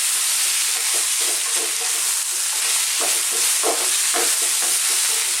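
Ground chili, turmeric, coriander and cumin are stirred briskly in a hot pan for a carrot coconut curry, giving a steady frying sizzle with repeated scraping strokes of a spoon throughout.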